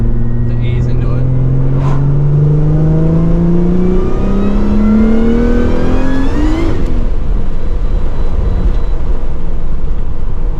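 A Holden Monaro CV6 accelerates hard, its engine note climbing steadily through the revs for several seconds, then shifting and settling into a steady driving drone, loud and close.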